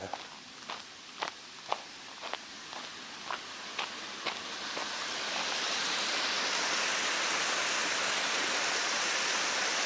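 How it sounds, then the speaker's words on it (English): Rushing water builds into a steady, loud roar, with several sharp footstep-like taps early on before the flow takes over. "As I approach the weir, you could probably hear the sound of the weir from here."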